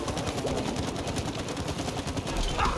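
Rapid gunfire in the co-op video game It Takes Two, the player character being hit; a dense, steady stream of sharp game shots fills the clip at close range with no pauses.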